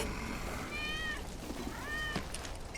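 A cat meows twice in the Final Fantasy 7 Remake video game, two drawn-out rising and falling cries about a second apart, heard over a steady noisy game ambience.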